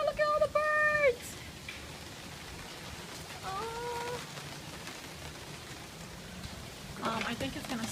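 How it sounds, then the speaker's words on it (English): Light rain patters steadily on outdoor surfaces through a stormy day, a soft continuous hiss with chirping birds near the start and middle and a brief spoken exclamation. "It's actually starting to rain again."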